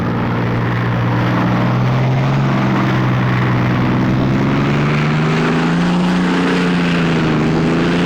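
Steady, loud drone of a wartime bomber's piston engine in WWII Online, a continuous propeller hum with a slowly wavering pitch and no pauses throughout.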